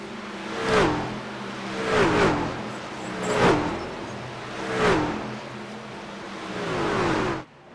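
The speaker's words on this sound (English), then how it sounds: "Bobby Helms coming down pit road right here." In a truck racing video game, several loud engine roars sweep past one after another on pit road, rising and falling as trucks pass close by, with a steady mechanical hum between passes.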